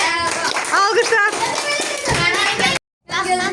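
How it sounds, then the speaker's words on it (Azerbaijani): Sixth-grade children in a classroom clap together during a guessing game, a loud, dense patter of hands with excited young voices mixed in, then a short pause before more clapping. "Alqışlar."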